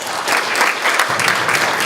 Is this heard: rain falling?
no